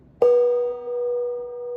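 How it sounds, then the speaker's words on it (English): A gong is struck once, a sharp attack blooming into a sustained shimmering ring that hangs steadily and slowly fades, heard alone and close. "Let's get a gong in to start."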